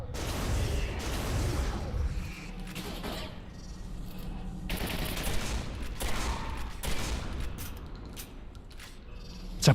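Heavy gunfire from a big weapon in the video game Quake 4, dense overlapping blasts and mechanical clatter filling the whole stretch at a loud, constant level.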